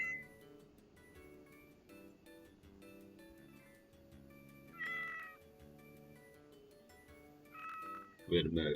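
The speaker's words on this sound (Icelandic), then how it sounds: "Við erum með kött í Roblox." A cat in the Roblox video game meows a few times over steady game music, with a louder burst near the end and speech mixed in throughout.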